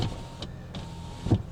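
Electric power windows on an Isuzu Rodeo whir up and down in short motor bursts separated by brief pauses, close inside the car.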